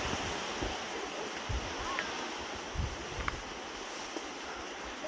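Loud, steady wind on a mountain roaring across the microphone, a broad continuous rush with occasional gusty bumps and no speech.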